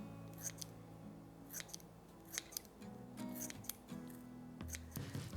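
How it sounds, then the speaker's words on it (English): Small kitchen scissors snip fresh dill off the stalk over a bowl, giving a series of sharp, close, quiet cuts at an irregular pace with no talking. "I'm just going to pull that off the stalk. And again, use my scissors."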